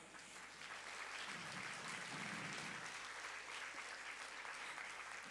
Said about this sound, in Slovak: toto je špeciálny potlesk pre nášho aniela